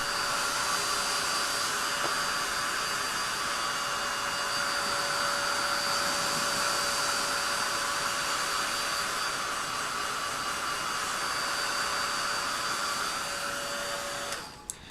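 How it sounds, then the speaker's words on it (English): A heat gun blows steadily to dry and set stamped ink on a small mini canvas, a loud continuous whooshing drone with a faint whine that runs unbroken for the whole stretch and cuts off abruptly at the very end. "I'm just going to use my heat gun. And my heat gun will quickly set this."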